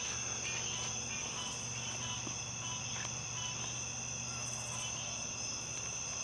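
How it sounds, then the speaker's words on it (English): Frogs call outdoors at night in a steady, continuous high-pitched chorus that runs unbroken throughout at moderate loudness, with no talking. "Hear frogs in the background?"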